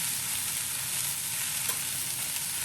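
Potatoes and beans cook in a pan in a home kitchen in India, giving a continuous, even sizzle and crackle of frying at steady moderate loudness with no talking.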